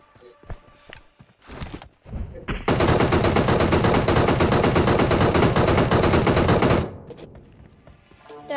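Sustained automatic gunfire in PUBG Mobile during a squad match, a loud continuous burst lasting about four seconds after scattered single shots and footsteps, then cutting off abruptly.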